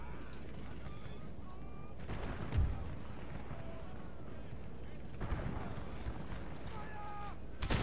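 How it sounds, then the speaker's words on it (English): Volleys of musket and artillery fire sound at intervals from a Napoleonic-era Empire Total War battle, some bursts near and others distant. A steady low rumble of battle noise runs beneath them. "Someone's still firing at me."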